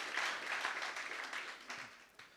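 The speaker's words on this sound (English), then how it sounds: "Give yourselves a round of applause." Audience applause at a business pitching workshop in Umlazi: a short burst of scattered clapping from a modest crowd, fairly soft and fading toward the end.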